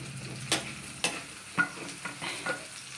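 Onions frying in a pan while being stirred, giving a soft steady sizzle broken by several sharp utensil scrapes and taps at a fairly even rhythm.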